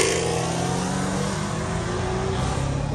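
A Dodge Hellcat Redeye engine roars loudly and close at an industrial lot, a sustained heavy revving growl holding for a few seconds with no talk.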